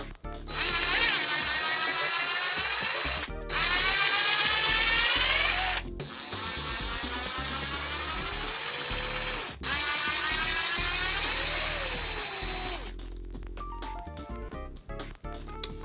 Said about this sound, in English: we're going to pull out this screw, that screw, and that screw